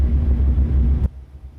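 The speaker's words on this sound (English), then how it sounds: "So we're going to use some engine brake." A Peterbilt 389 heavy-haul truck in American Truck Simulator runs its engine brake, a loud, deep, steady rumble that cuts off abruptly after about a second, leaving a faint low hum.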